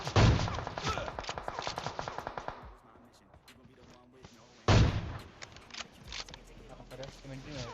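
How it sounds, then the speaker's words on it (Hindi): Rapid bursts of PUBG Mobile gunfire crackle through the first few seconds, fade into quieter background noise, then another loud volley breaks out, with voices talking underneath. "लेकिन कोई और गोली चलाने लग जाता है।"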